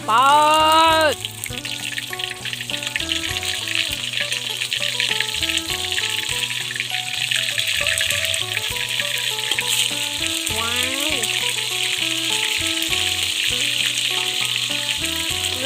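Food frying in a pan at a small hut in a rice field, a loud, steady hissing sizzle that runs the whole time, with short bursts of talk near the start and midway.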